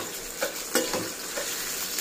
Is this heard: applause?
no